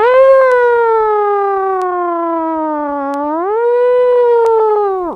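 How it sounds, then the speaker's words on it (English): A fire truck siren wails loud and close in a long, steady tone that dips slowly and then rises again, alone with no talking. "Have you ever heard a siren on the fire truck?"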